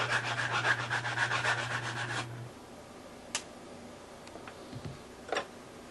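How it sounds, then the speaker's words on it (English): Rhythmic rubbing of a sanding block with rough sandpaper, smoothing and rounding edges of a model aircraft fuselage, steady strokes for about two seconds, followed by quiet with a few faint taps and knocks. "he's got a sanding block here with rough paper, trying to get all the edges smooth"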